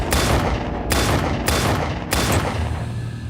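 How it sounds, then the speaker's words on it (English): Gunfire in a shooting reconstruction, about five loud close shots in quick irregular succession with a sharp onset and a ringing decay after each, no talk. "She fired off 5 shots."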